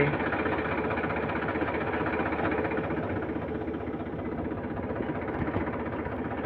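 Tractor engine drones continuously while water is sprayed across a cumin crop, a steady, fairly loud mid-low mechanical hum with no pauses and no voices.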